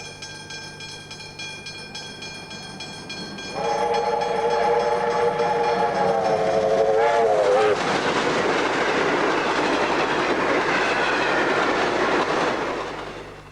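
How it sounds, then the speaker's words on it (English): Preserved Victorian locomotives haul the Geelong Passenger train, a loud rumble building after a quiet start, with a sustained multi-tone whistle sounding for several seconds before the heavy rolling train noise continues. "The Geelong Passenger gives the locos a chance to really stretch their legs and is proving very popular."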